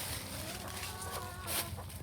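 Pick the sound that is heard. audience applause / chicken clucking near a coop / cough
chicken clucking near a coop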